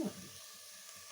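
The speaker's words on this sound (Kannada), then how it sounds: "ಇದಿಷ್ಟು ಫ್ರೈ ಆಗಿದೆ." A pan of sprouted horse gram masala gives off a faint, steady sizzle for a second, with a small clatter at the very start and no talking.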